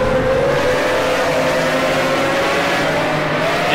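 A Pagani supercar engine drones steadily in the Project Cars racing game on a Dubai circuit, a loud sustained roar with a slowly shifting pitch as the car holds speed.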